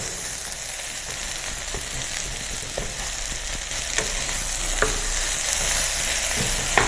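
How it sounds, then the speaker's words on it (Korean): Onions frying with eggplant in a pan crackle with a continuous close sizzle, and soft scraping stirs recur through it. "양파를 넣어주시고 한번 섞어주세요"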